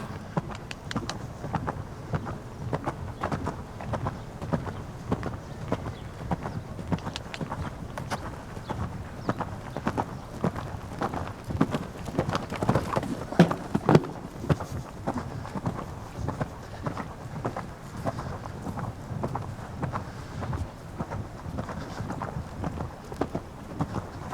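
Rapid, rhythmic hoofbeats of a horse cantering on soft ground during modern pentathlon riding training, steady and continuous, with light wind noise in the background.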